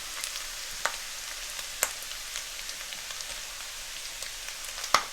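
Spices with onions and ginger stir frying in a pan for minced beef karahi, a soft steady sizzle with a few sharp clinks from stirring.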